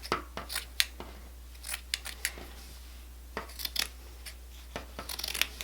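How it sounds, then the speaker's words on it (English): Scissors cutting monk's cloth for a punch needle project, heard as a series of close, crisp snips in irregular clusters over a low steady hum. "now it's time to cut our monk's cloth"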